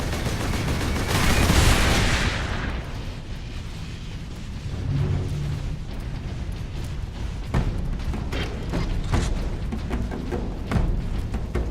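Sentry guns fire in Warhammer 40,000: Space Marine, rapid automatic shots set against booming explosions, loud and constant throughout, with a burst of heavy blast noise near the start.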